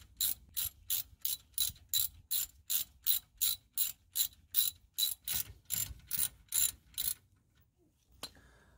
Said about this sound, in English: After removing the wheel, you're going to want to remove the guide pins.